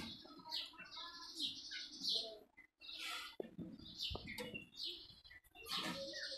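Madras pigeon chicks in a loft give repeated high squeaky chirps and peeps in short bursts, close and fairly loud, with a few low coos and soft handling noises between them.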